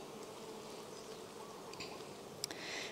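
Honey bees drone around an open beehive, a soft, steady buzzing hum that fills the background with no voices, a faint click near the end.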